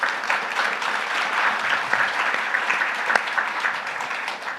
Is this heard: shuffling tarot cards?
no